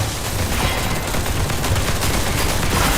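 Gunfire in the Duet Night Abyss video game, a continuous loud barrage of rapid shots blending into a dense roar with no clear gaps.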